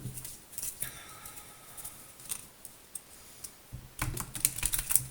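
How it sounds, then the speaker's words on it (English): Tarot cards being shuffled for a reading, heard as soft, quick riffling patters in brief bursts, with a denser, louder flurry of card flicks near the end and no talking. "Shuffle one more time."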